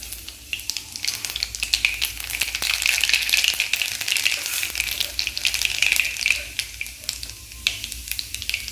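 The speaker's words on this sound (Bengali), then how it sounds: "আর তেলের মধ্যে দেখো দিয়ে দিচ্ছি কালো জিরে।" Nigella seeds (kalo jeere) sizzle loudly in hot oil in a kadai, a dense crackling hiss that swells then eases, with a few spoon taps.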